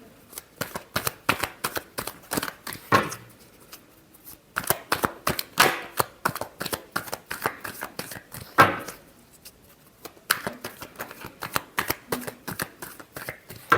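A deck of tarot cards is shuffled over and over in quick riffling bursts, with short pauses between the rounds; close and fairly loud, with no voice.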